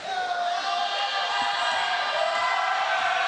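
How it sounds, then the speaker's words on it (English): A Cougar home crowd at a girls' basketball regional championship roars steadily to distract an opponent at the free-throw line, a dense sustained wall of cheering and yelling with a faint bounce of the ball beneath. "You hear the Cougar crowd trying to distract."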